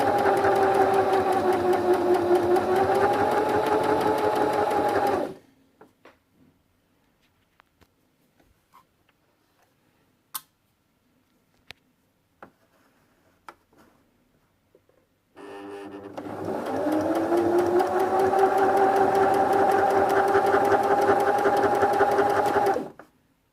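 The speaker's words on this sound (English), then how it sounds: "so I'll sew this up" A sewing machine runs in two steady, humming bursts of several seconds each while stitching a summer top made from an old tablecloth, with a quiet pause of small clicks and handling between runs.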